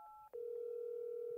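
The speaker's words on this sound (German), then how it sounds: "Telefon." A telephone in Resident Evil 7 gives a short two-tone beep, then a brief break, then a steady, clean electronic tone that holds to the end.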